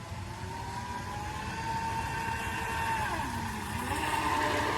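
An RC boat powered by Neu Motors runs at about quarter throttle, giving a steady whirring motor drone with shifting pitch as it bounces across the water, heard from a moderate distance with no talking.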